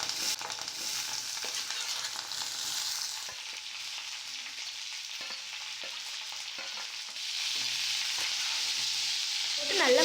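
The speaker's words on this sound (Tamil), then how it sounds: "நல்லா கோல்டன் கலரில் பெரிய உள்ளி வதங்கட்டும்" Onions, curry leaves and chilli frying in a pan, a loud, close, continuous crackling sizzle that eases slightly midway, then swells again with a faint stir near the end.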